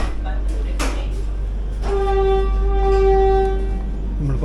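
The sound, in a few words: Vande Bharat train starting to depart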